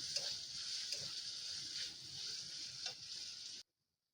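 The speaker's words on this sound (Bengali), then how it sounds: "পেঁয়াজটা আধ ভাজা করে দিচ্ছি।" Onion sizzles steadily while half-frying in a pan, a soft continuous hiss with occasional stirring scrapes, then cuts off abruptly into silence.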